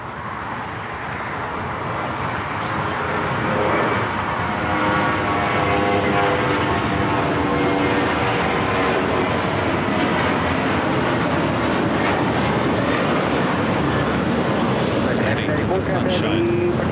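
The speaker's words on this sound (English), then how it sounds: "Next takeoff, American Airlines Flight 1994." An American Airlines jet takes off at LAX, a broad roaring rumble that builds over the first few seconds and then holds steady and loud, with voices talking over it.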